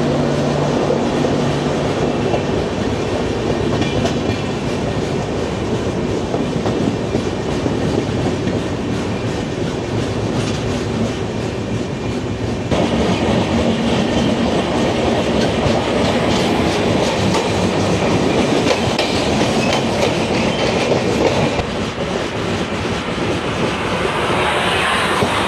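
The Howrah to Digha Tamralipta Express runs at speed with a loud, continuous rumble, wheels clattering rhythmically over the rail joints and wind roaring past throughout.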